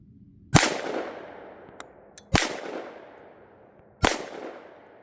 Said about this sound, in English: Okay, 5 shots here.